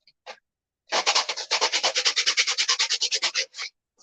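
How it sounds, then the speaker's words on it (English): Rapid rhythmic rubbing strokes, about twenty quick back-and-forth scrapes of sanding the back of a clay doll in a steady burst, close and fairly loud, with no talking. "Sanding the back and sanding the back of the doll."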